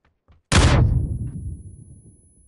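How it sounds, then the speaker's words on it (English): Grenade exploding in PUBG, a single sudden loud blast that rings out and decays over about two seconds, preceded by faint small sounds. "The grenade exploded."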